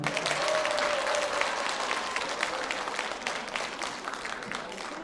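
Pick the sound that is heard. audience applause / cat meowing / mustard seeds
audience applause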